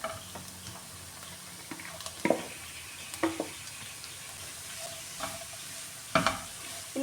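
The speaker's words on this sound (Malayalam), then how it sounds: "ഇനി ഇതെല്ലാം കൂടെ നന്നായിട്ടൊന്ന് മിക്സ് ചെയ്യാമേ" Chopped papaya (omakka) and cabbage stirred with lightly browned onions in a pan for papaya thoran, a soft frying sizzle under several distinct scraping stirs of a spoon, close and moderately loud, with no talking.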